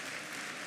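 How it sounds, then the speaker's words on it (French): An audience at a gaming convention conference in Toulouse applauding, a dense steady wash of clapping filling the short moment, loud and close with no speech. "Mais vous pouvez quand même m'applaudir un peu"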